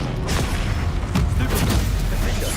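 A Confringo blasting spell cast in Hogwarts Legacy, a muffled booming burst over busy combat noise, with a few sharper bangs rising out of a dense, rumbling wash.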